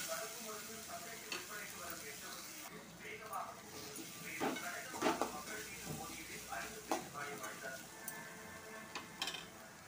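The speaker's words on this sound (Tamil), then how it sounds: "ஒரு நிமிஷம் நல்லா வதங்கட்டும் மீடியம் ஃப்ளேமில்." Tomatoes and onions sauté over a medium flame for upma, heard as a steady soft sizzle with a spoon stirring and scraping against the pan, while someone talks quietly over it.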